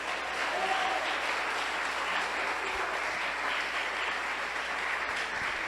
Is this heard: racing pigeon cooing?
no